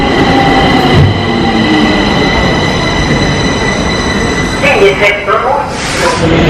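Ride aboard a train in Stockholm, Sweden, with steady loud rumble of the carriage, a sustained tonal hum, and wheel squeal or brake hiss near the end.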